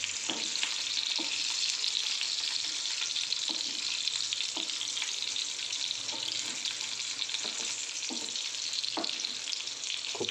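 Green chilies fry in oil with a continuous bright sizzle and crackle, broken by regular stirring knocks and scrapes of a spoon against the pan, close and fairly loud, with no talking.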